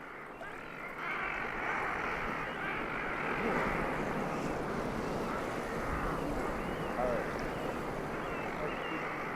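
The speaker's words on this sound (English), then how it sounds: "Even though we're being tossed about by the waves that break on the shore" Waves break on the shore of a bear-inhabited beach, heard from a Zodiac boat being tossed about: a broad, continuous surf roar that swells after the first second, with a voice talking over it.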